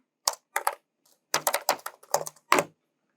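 Keys clatter on a computer keyboard as a Kali Linux command is typed, a close, crisp burst of separate keystrokes in uneven clusters with short pauses between, and no voice.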